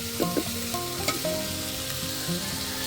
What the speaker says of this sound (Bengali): মশলাটা আমি একটু কষিয়ে নিব।